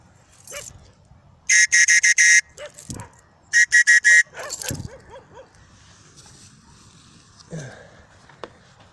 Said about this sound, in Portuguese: O nosso apito canino.